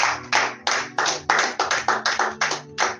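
A church congregation claps in unison to acclaim the king of kings, about ten sharp, evenly spaced hand claps in a steady rhythm, loud and close, with no voices over them.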